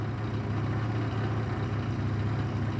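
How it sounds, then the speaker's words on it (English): A 2005 Yamaha YW50 Zuma scooter's small engine idles steadily after carburetor work, a low, even putter that stays close and unchanged for a few seconds with no talk. "but it's idling"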